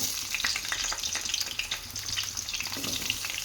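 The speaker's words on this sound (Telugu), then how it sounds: "ఇందులో అయితే ఇప్పుడు పన్నీర్ ఫ్రై చేసుకుందాం" Paneer pieces frying in hot oil in a pan for paneer curry, a close, continuous crackling sizzle with light stirring scrapes and no talking.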